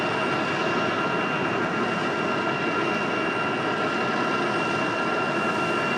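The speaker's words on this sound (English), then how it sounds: "Little wing fluffage happening for Aer Lingus as they head back to Dublin." An Aer Lingus jet airliner departs Raleigh Durham airport for Dublin, its engines a steady, loud broadband roar with a whining tonal edge that holds evenly throughout, no voices over it.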